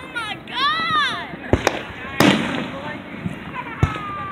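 Fireworks at a 2019 Flint, Michigan display: several sharp booms and crackling bursts, with wavering whistles early on and people talking nearby.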